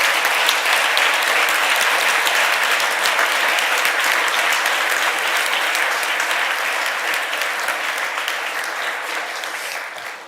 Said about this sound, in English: Please turn around and clap for them as well.